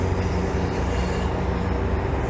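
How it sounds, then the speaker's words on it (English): A steady low rumble of a passing GO commuter train in downtown Toronto, continuous and fairly close, with a droning hum and no pauses. "There goes a GO train"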